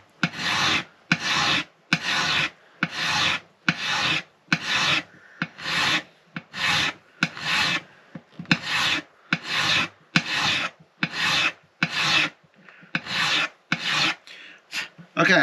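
Part of a Martin D-18 '37 Authentic acoustic guitar is filed with about twenty steady back-and-forth rasping strokes in an even rhythm, each a short, bright, close scrape with brief pauses between, and no voice.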